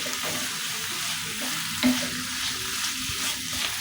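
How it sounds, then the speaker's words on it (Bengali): Vegetables fry in hot oil in a pan, with a continuous close sizzle and occasional scraping stirs, without any talking. "এখন আমি তেল দিয়ে নিচ্ছি। সবজিগুলো এখন আমি সব এটার মধ্যে দিয়ে দিব।"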